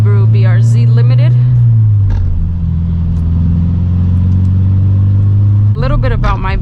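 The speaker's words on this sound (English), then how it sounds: "I don't think the exhaust sounds terrible, but I also don't think it sounds great." Exhaust of a 2014 Subaru BRZ Limited while driving, heard from inside as a steady low drone whose pitch drops once partway through, with a person talking over it at the start and end.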